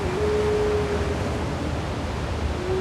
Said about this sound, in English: right now there's so much water going through it that it's blowing that rapid wide open